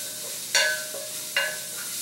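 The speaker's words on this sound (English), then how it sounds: "And then I'm going to be adding in the green beans." Green beans drop into a hot sizzling pan for an Asian mushroom vegan broth, giving two short clattering hits over a steady, soft background hiss.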